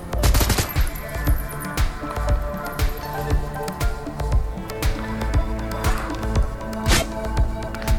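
Submachine gun fire in Shadowrun: Hong Kong, dense rapid bursts of shots over layered game music, sustained and loud across the whole stretch.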